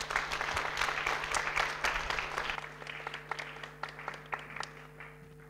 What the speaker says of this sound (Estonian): Teeme Madisele aplausi.